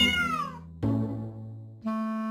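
Three separate meows from a domestic cat, the first a long falling cry and the next two steadier, loud and close with short gaps between them and no other sounds.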